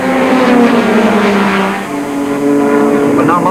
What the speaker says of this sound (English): Up the hill from San Devote, Moss keeps the veteran Lotus well up amongst a field of brand new 1961 models